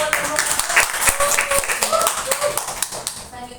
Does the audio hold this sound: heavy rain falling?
no